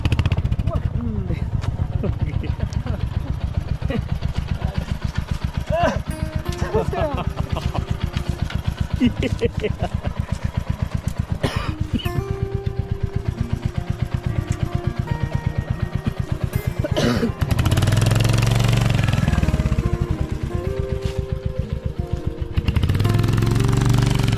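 A motorcycle engine chugs steadily on a steep mountain trail near a river canyon at Yelbong, a close, loud, low putter that rises into a revving roar near the end, with talk running over it.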